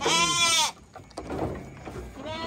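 Young sheep or goats bleat loudly and near while being loaded onto a hired vehicle, with one long wavering cry at the start, a quieter stretch of shuffling, then another bleat beginning at the end.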